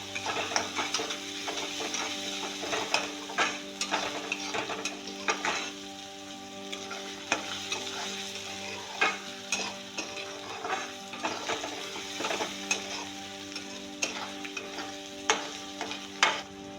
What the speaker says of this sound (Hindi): अब हम डालेंगे 1 चम्मच ठेचा। इसको थोड़ा सा भून लेंगे।